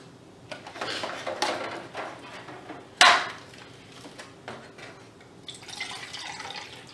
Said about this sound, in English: once all of your water goes through your stormwater drain, we'll measure it to see how much water ran off